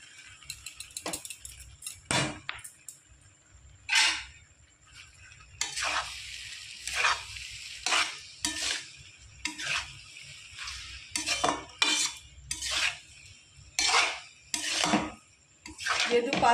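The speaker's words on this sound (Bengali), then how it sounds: "যেহেতু পাস্তাগুলো সিদ্ধ করা, আমি বেশিক্ষণ নাড়বো না, 5-10 মিনিট মতো নেড়ে চেড়ে নামিয়ে নেব।" Boiled pasta tossed and stirred in a pan on the stove, with clattering metal spoon strikes and scrapes against the cookware in irregular bursts over a faint low sizzle, close and fairly loud, no talking.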